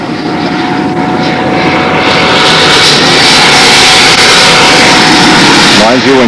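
A control line stunt model airplane engine roars loudly and continuously in flight at a windy national model aviation contest, a sustained buzzing drone with slight swells as the plane circles.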